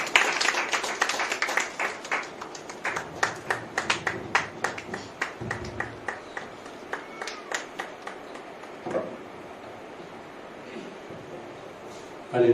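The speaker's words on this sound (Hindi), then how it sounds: "आप सब जोरदार से तालियां बजाइए।" A conference crowd at a Christian gathering in Goa claps loudly, a rhythmic run of sharp, fairly even claps at a steady beat that gradually softens, with faint voices underneath.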